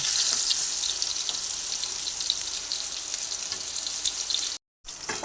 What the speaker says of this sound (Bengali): নুন আর হলুদ মাখতে দিয়ে পটলগুলোকে আমি ভেজে নিচ্ছি